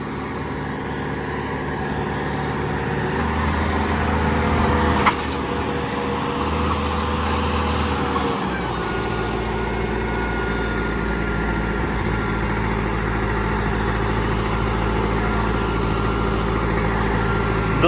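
A turbocharged Sonalika tractor engine with a 15 hp upgrade runs steadily for a long stretch, a constant low heavy drone with slight shifts in load and a brief knock partway through.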